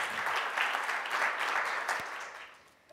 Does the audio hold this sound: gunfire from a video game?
no